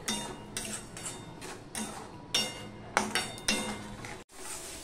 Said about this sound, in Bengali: এবার মিশিয়ে নিয়ে আমি মশলাটা কষিয়ে নেব ভালো করে